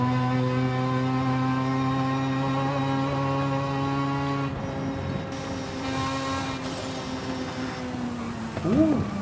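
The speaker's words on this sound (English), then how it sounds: "beautiful little turbo sound there as well" Tuned car revving along a road in Forza Horizon 5, a steady engine drone with strong harmonics that drops off midway, then a short whistling turbo spool and flutter near the end, all without talk.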